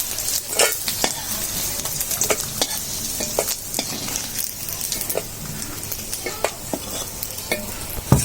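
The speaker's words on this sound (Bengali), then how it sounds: "শুটকি মাছটা ভেজে নিলে একদম ফ্লেভারে, মানে বাসনায় চারিদিক মৌ মৌ করবে।" Dried fish sizzling and frying in a pan, a steady crackle with frequent stirring scrapes and utensil clicks throughout, close and fairly loud, no talking.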